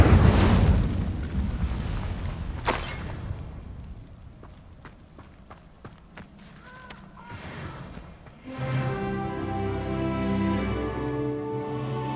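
Incendio fire spell in Hogwarts Legacy bursts with a loud roaring blast that fades into crackling and scattered impacts, then a resonant magical hum.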